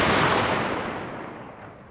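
Massed gunfire from carbine-armed units in the Total War: Shogun 2 – Fall of the Samurai strategy game, a dense loud crackle of shots that fades over about two seconds with no talk.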